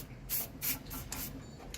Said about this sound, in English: I've got my spray paint, the old 151 multi-purpose spray, and I'm going to prime the tanker